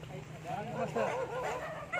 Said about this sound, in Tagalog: Oh, ang daming aso.